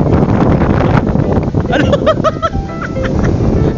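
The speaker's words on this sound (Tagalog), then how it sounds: "super hangin ngayon dito" Strong wind blows at a dam, a loud, steady roar of gusts buffeting the microphone, with people talking briefly through it.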